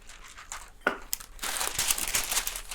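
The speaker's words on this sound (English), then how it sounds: "Then I'm going to take another parchment sheet" Sheet of parchment paper crinkling and rustling as it is handled in a kitchen during pumpkin pie preparation, close and fairly loud, a few crisp crackles building into continuous crumpling.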